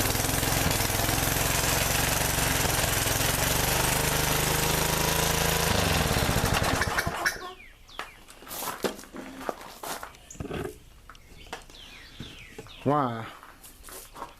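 A Murray trimmer mower engine runs roughly and loudly after being choked, chugging for about seven seconds before cutting off, followed by quieter shuffling, clunks and brief handling noises.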